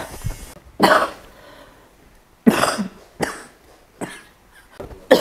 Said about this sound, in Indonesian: Mak, batuk, Mak.